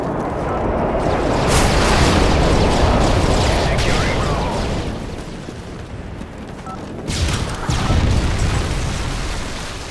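Bombs from an air strike pound the ground in Modern Warfare 3, heavy booming explosions rolling loud and continuous, with a second burst of blasts near the end amid chaotic battle noise.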